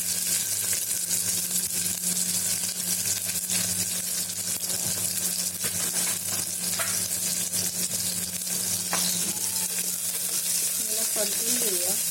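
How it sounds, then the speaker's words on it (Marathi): Some 20–25 garlic cloves and pieces of ginger fry in a pan, giving a loud, steady sizzle that runs unbroken throughout, with a faint voice briefly heard near the end. "परतून घेऊया"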